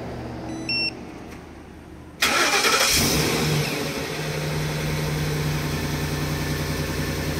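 A car engine fires up by automatic remote start: a couple of faint beeps, then a sudden cranking catch and a brief rev that settles into a steady, close idle hum.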